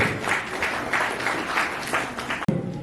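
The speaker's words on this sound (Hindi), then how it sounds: "जोरदार ताली बजाकर सरकार" A seated audience at a national disability ceremony and poetry gathering claps steadily for a few seconds, a dense, moderately distant applause that ends with an abrupt cut.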